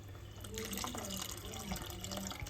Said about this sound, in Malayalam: ആ ഒരു പുളിവെള്ളം ഒഴിച്ചു കൊടുക്കുന്നുണ്ട് കേട്ടോ